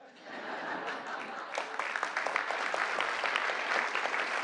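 Crowd applause at a White House executive order signing, building from quiet to a steady, moderately loud clatter of many hands with a few chuckles.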